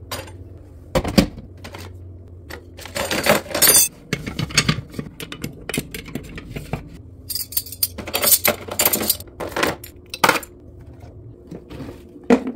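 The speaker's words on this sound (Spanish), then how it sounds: "también alzando los platos limpios" Clean dishes lifted and stacked in a kitchen, a series of bright clinks and clatters of glass and ceramic knocking together, irregular and close, with quiet pauses between handlings.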